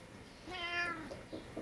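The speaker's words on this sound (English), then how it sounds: "Oh, kitty." A cat gives a single clear meow, fairly soft and close, with faint rustling after it.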